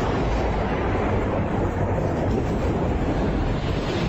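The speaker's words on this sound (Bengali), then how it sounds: "কড়কড় শব্দে বাজ পড়ে কান দুটোতে যেন তালা ধরিয়ে দিল।" A loud thunder crash sound effect from a Bengali suspense audio story, a dense, steady rumbling roar that fills the whole stretch with no voice over it.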